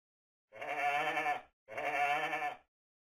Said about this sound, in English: What sound does a sheep make?